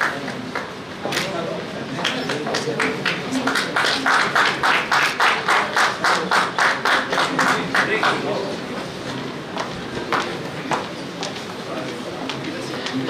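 A crowd claps at a 2023 university convocation ceremony in India, a rhythmic, hall-filling applause that swells in the middle and then fades, with an announcer's voice over it.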